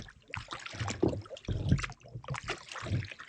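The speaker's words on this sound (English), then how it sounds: "Making the paddle out pretty leisurely" A canoe is paddled leisurely across a calm lake on a sunny day, with soft, close paddle strokes and water swirling in gentle, uneven surges, fairly quiet and without talk.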